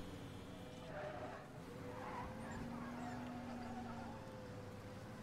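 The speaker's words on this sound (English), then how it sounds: "Squeaky ass truck" A squeaky truck drives in Mafia: Definitive Edition, with a steady engine rumble and long, high tonal squeals riding over it. The sound is continuous and fairly close, and no one speaks over it.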